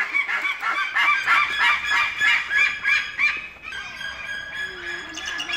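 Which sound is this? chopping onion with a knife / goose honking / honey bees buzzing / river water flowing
goose honking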